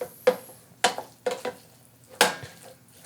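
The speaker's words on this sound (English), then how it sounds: "We're going to stir these in. Give it a good mix." Diced dried apricots being stirred into a lamb stuffing mixture: about five distinct close scraping, clattering strokes of a spoon against the bowl at an uneven rhythm, separated by near silence, with no talk.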